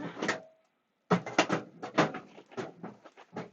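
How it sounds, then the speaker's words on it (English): A drawer pushed back into a cabinet during an indoor card-making craft session, heard as a close, repeated series of knocks, scrapes and clatters after a brief pause, with no voices. "Now I can't get the drawer back in."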